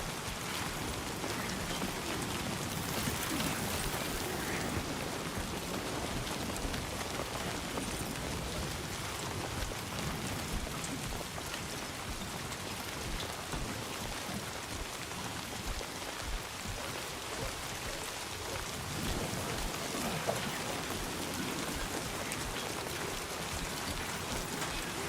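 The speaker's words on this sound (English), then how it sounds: "Rain ever gonna fucking stop?" Rain falls steadily in the video game Death Stranding 2, a dense, even hiss of drops on surfaces that holds at a constant level throughout, with no voices.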